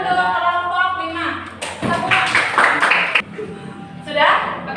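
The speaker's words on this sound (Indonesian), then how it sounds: "Tepuk tangan untuk kelompok 5." A classroom group claps for group 5 in a short burst of applause, loud and close, with talk before and after it.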